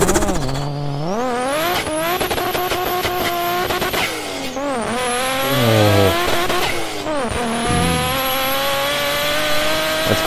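A voice imitates car sounds in one continuous take: revving engine whines with rising and falling pitch, shifts, and squealing skids, loud and close with no other talk.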